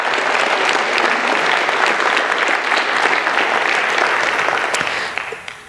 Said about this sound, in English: let's do a round of applause for that group